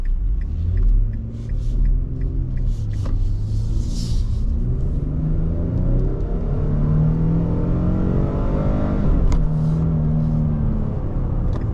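A 2024 Nissan Frontier Pro-4X with a 3.8 liter V6 revving hard under acceleration, the engine note climbing steadily in pitch through the gears, heard from inside the cab over a continuous road rumble.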